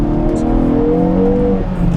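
Hyundai Avante N Line, a 204-horsepower car, re-accelerating uphill on a winding road after slowing, with a steady, moderately loud engine drone and faint wind and road noise from inside the cabin.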